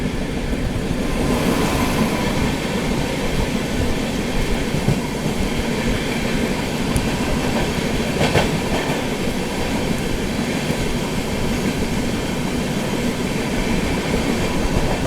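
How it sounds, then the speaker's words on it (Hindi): Unchahar Express running from Chandigarh toward Prayagraj, passing close by at a crossing during heavy rain, with a loud continuous rumble and rhythmic clatter of wheels on rails, plus a brief sharp squeal midway. "ये गई दोस्तों ऊंचाहार एक्सप्रेस।"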